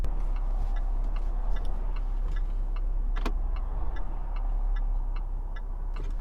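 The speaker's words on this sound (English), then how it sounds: "I'll just turn the camera around and you'll see what the traffic's like on a Saturday." Saturday-morning road traffic on the A17, mostly cars with few lorries, makes a steady, fairly loud roar of nearby vehicles rolling past, with faint regular ticking over the continuous road noise.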